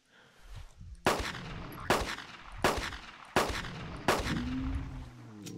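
Five loud, sharp gunshots ring out in Carnivores Dinosaur Hunter Reborn, spaced roughly a second apart, each with a booming tail, fired while hunting a huge triceratops; a low rising game tone follows the last shot.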